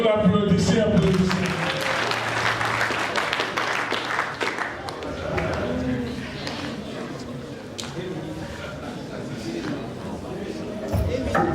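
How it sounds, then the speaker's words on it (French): Applause from a crowd of young people at a political gathering in Ituri where a senator speaks, a steady wash of clapping running the full length with voices and crowd noise mixed in. "Vous l'applaudissez, applaudissez."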